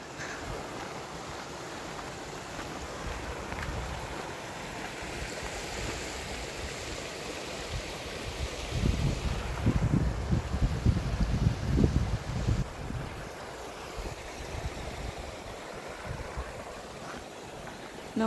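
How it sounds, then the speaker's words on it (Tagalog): A small creek and mini waterfall near Helen Lake on a mountain trail give off a continuous rushing flow. It swells louder in the middle with some wind buffeting the microphone. "Mini falls."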